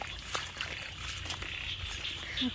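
Frogs croak in the rain at dusk out in the countryside, a dense chorus of chirps and croaks over a steady hiss of rainfall, with scattered louder calls standing out nearby.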